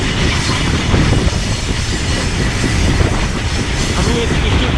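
A heavy iron ore train rolls through the Sahara Desert in Mauritania, giving a loud, constant rumbling roar of wagons and wheels with faint clatter, heard close up as from aboard.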